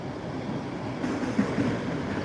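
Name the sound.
Needham commuter train passing at Forest Hills station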